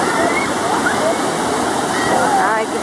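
Sea waves at Itapuama beach near Recife make a loud, continuous rushing wash close by, with faint voices in the background.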